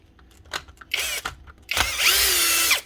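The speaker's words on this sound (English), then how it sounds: "These Bosch SDS drills" A Bosch SDS drill runs in short bursts, two brief revs followed by a longer sustained whine with a rising and falling pitch, loud and close with no talk.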